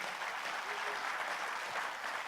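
Audience at a Korean cryptocurrency coin presentation gives a short burst of applause, a steady even wash of many hands clapping at moderate distance.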